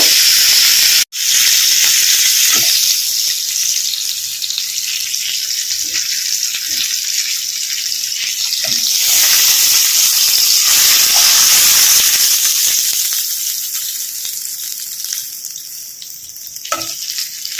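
Tengra fish frying in hot oil in a pan, giving a loud, steady close-up sizzle and hiss that swells and fades slightly, with a few faint taps of a utensil.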